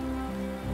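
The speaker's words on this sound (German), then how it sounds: "Hagel." Hail falling in the fantasy role-playing game Divinity: Original Sin 2, a steady, dense patter like rain on a surface, continuous and even throughout, with no voices.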